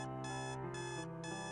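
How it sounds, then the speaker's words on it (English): An alarm clock rings with a harsh, repetitive buzz in steady bursts, with short gaps between them, loud and alone with no voices. "quickly shut off his alarm clock"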